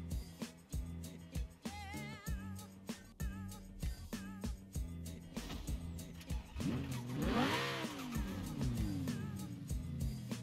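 A Lamborghini Huracan Performante in Forza Horizon 4 pulls away with choppy revving and gear changes, then swells into a loud sweeping engine roar with tire noise, over a steady rhythmic music bed.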